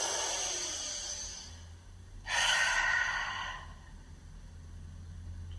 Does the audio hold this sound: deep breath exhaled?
yes